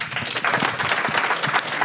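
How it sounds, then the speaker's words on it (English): Applause from the audience at a startup pitch event, a brief burst of steady clapping with the occasional faint voice mixed in. "Let's give them a big round of applause."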